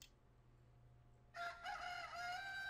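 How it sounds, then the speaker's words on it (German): A rooster crows in the distance in the video game Alundra; a single crow starts partway through, ringing out over a faint, quiet background, with no speech. "als ein Hahn in der Ferne kräht"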